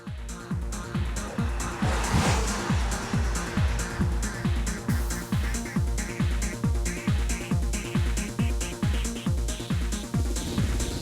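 A 2001 BMW M3 drives along with a strong, steady engine drone, punctuated by a regular, rapid thumping pulse throughout, loud and close.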